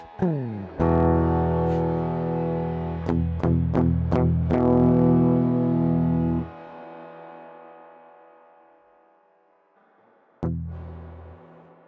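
A tone drenched in an outer-space reverb effect rings out loud with long, swelling sustains and sharp repeated attacks, then decays in a slow wash before a final hit, with no voice over it.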